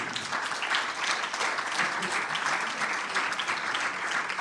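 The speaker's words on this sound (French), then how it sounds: "Bravo, on l'applaudit." Audience applause after a talk on climate projections and decision support, a steady dense clapping that fills the room at even strength throughout, with no voices over it.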